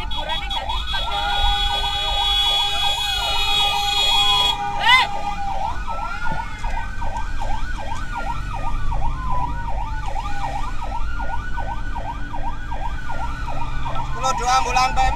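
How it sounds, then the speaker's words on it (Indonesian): PMI ambulances on a city street, their sirens wailing in a fast repeating up-and-down yelp, loud and close, with traffic noise beneath. "Dua ambulan PMI Jalan"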